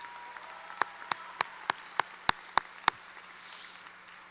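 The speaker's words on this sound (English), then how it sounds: "One more round of applause for Mr. Saldana." Applause at the 2024 Leander High School graduation ceremony. One pair of hands nearby claps about eight times in an even rhythm, sharp and distinct over faint hall ambience, then stops.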